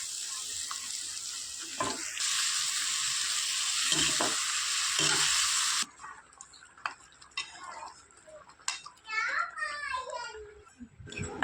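Tomato, potato, ginger-garlic paste and onion sizzling in hot oil for a fish curry, a loud steady fry for several seconds that cuts off, followed by clinks and stirring under a talking voice.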